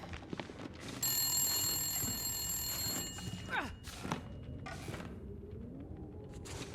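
A rotary telephone rings inside the survival video game The Long Dark, a sustained bright bell tone starting abruptly, then fading out amid thuds and footsteps in a quiet interior.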